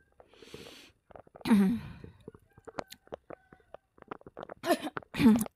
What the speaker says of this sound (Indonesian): Tuh, akunya jadinya batuk.